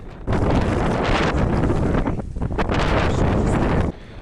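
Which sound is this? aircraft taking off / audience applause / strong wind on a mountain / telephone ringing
strong wind on a mountain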